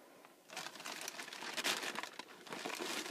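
A large plastic bag of pet shop purchases, pet food among them, crinkles and rustles loudly and continuously as hands rummage through it, close up, with no talking.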